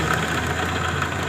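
A Honda Mio Soul scooter with a rough noise at the rear pulley gives a loud, steady, close engine drone with a coarse, uneven rattle.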